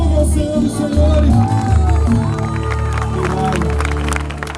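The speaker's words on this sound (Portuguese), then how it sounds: "E as palmas louvem ao Senhor dos Senhores" A church congregation applauding in worship, a dense continuous wash of clapping and crowd noise, loud and close, with voices and music tones sounding through it.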